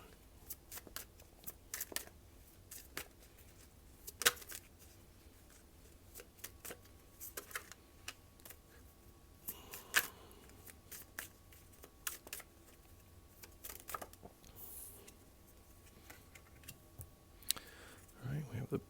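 Tarot cards are shuffled and drawn, giving soft repeated riffles, taps and clicks at close range, quiet and spread irregularly throughout, while a voice talks over them.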